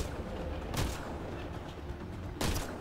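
Gunfire in the sci-fi shooter game Mass Effect Andromeda, with two sharp shots about a second and a half apart over a continuous low background rumble.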